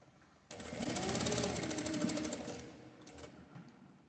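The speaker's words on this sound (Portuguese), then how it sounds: "E vou passar uma costura unindo essa parte toda, bem na beiradinha." A sewing machine stitches fabric and lining together along the edge of a small card and coin purse, a steady close rapid whir lasting a few seconds, then slowing and stopping with a couple of short bursts.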